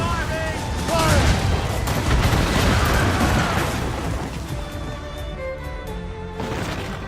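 Enemy cannon and gunfire in the naval combat of the video game Assassin's Creed Rogue, a dense roaring volley of blasts and booms with shouted voices over the battle.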